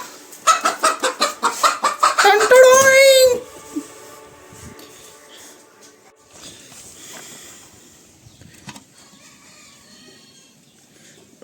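A chicken clucks close by in a rapid rhythmic run, rising into a drawn-out squawk. A quiet stretch with faint background sounds follows.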